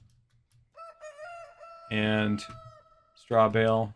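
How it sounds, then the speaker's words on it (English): A rooster crows in the railroad simulation game Railroads Online, two loud harmonic cock-a-doodle-doo calls following a thin tonal lead-in, with a brief bit of speech before them. "Did you hear the rooster crowing?"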